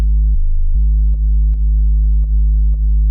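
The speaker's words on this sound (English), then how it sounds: "And I went to the RPS Ultimate Dubstep sub." Clean, steady dubstep sub bass from the RPS Ultimate Dubstep pack, a deep sustained tone with a brief pitch drop and short rhythmic sidechain dips from a kick, playing alone.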